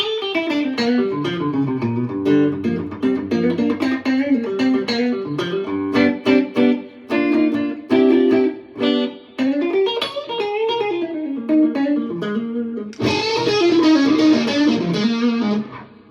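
Electric guitar with humbucker pickups wired out of phase, played through heavy distortion, melodic phrases with sustained notes and brief pauses, ending in a loud strummed chord.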